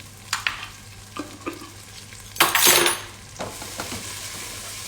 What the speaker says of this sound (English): Okay, sizzling tomato paste.